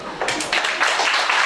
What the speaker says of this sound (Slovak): Tak ešte jeden potlesk.